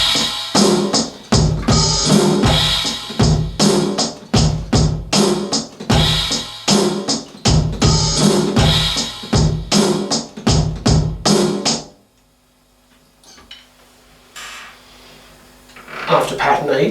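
Full drum kit plays the pattern from a song, a steady driving beat of repeated hits with kick and cymbal wash, loud and close for about twelve seconds before dropping to near silence.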